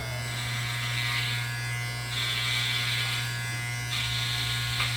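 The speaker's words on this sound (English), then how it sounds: "It's like shaving off his entire hair." An electric shaver with no guard comb cuts hair close up, a loud, steady buzzing hum with slight shifts in tone as it moves across the head, and no one speaking.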